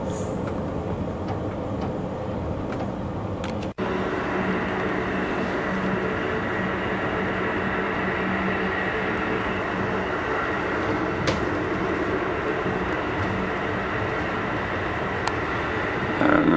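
Amtrak Southwest Chief passenger train rolling toward Argentine yard in Kansas City, Kansas, a continuous steady rumble and wheel noise heard from inside the car, with one brief sharp knock early and occasional faint clicks.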